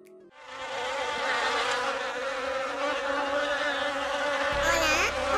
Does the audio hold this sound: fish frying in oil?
no